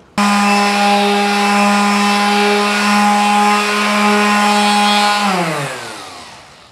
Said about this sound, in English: let's finish sand it